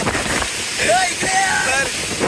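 Wind gusts roar across the microphone in a steady outdoor wash at a monsoon hill station in Matheran, with faint voices and a few brief whistling tones drifting through.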